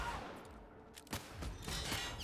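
Enemy gunfire in The Outer Worlds arrives as a few sharp, fairly faint shots and short bursts spaced through the moment, with a muffled in-game background and no speech.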